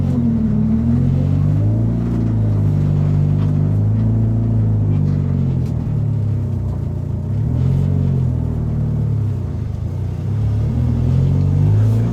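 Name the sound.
Mitsubishi Eclipse car engine running loud without a muffler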